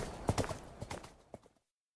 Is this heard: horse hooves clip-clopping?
yes